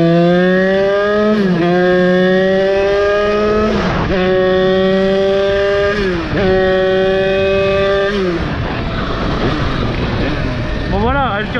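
A Beta 70 WR motorcycle's two-stroke engine pulls hard from first gear, loud and close, its whine rising in pitch through four quick gear changes before easing off.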